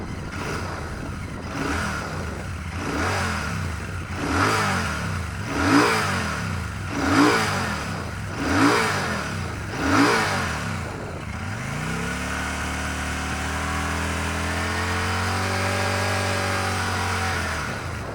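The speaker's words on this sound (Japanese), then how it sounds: "それではエンジンをかけてみましょう。" A Royal Enfield Shotgun 650 motorcycle engine starts and revs repeatedly in sharp, regular bursts, then settles into a steady, rumbling idle close by.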